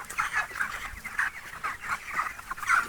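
Broiler chickens at a poultry farm during hot summer weather, clucking in short, repeated bursts from several nearby birds, fairly close and uneven in rhythm.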